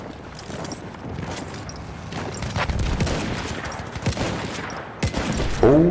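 Machine gun fire in Battlefield 1 at a Volga River battle, with a steady stream of distant, dense shots and explosions rattling throughout, and a shout breaking in right at the end.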